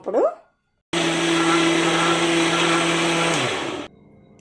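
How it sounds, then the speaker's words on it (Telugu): A brief whooshing sound, then a blender whirs loudly for about three seconds, blending sapota fruit, with a steady motor drone before winding down and stopping. "అందుకే ఇది మిక్సీ పట్టుకుందాం."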